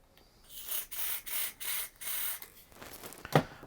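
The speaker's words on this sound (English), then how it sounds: "So what I'm going to do is give it a clean with some contact cleaner." Bursts of aerosol contact cleaner sprayed onto the potentiometer of an old Woolworths 'Top Twenty' electric guitar: several short hissing blasts in an uneven rhythm, close and fairly loud, ending with a brief click or rattle.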